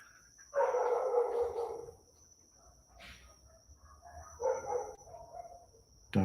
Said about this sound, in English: Dogs barking, rats jumping.